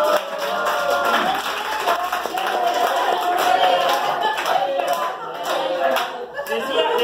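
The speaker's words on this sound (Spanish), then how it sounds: "Fuerte los aplausos" Guests at an adults' birthday party with clowns applaud in a steady burst of close, dense hand clapping, with voices and some music mixed in.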